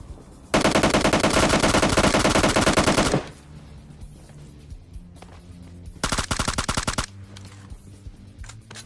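Automatic gunfire from a suppressed M4 rifle in a video game: one long sustained burst of rapid shots, then a shorter burst several seconds later, loud and close with quieter game ambience between.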